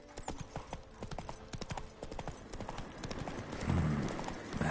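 Horse hooves clip-clopping at a steady rapid gallop in The Witcher 3: Wild Hunt, with a brief whinny, the quick rhythmic beats close and continuous over ambient game sound, swelling slightly louder near the end.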